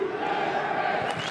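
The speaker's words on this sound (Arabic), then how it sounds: "جماهير أمريكية تساند لاعبيها في هذه الأثناء" American fans cheer at a USA vs Saudi Arabia friendly football match, a steady, moderately loud crowd roar throughout.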